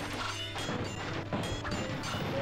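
A heavy arms workshop collapsing under attack in a Seven Years War strategy game, a series of crashing, clattering impacts with mechanical rattle, spaced irregularly over a steady battle backdrop.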